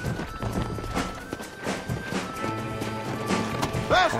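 Horse hooves in the video game Red Dead Redemption clop in an uneven galloping rhythm, close and fairly loud, with the horse whinnying briefly near the end over a busy background.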